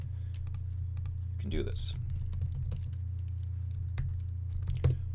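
Computer keyboard typing, scattered close key clicks over a steady low electrical hum, with a few words spoken briefly.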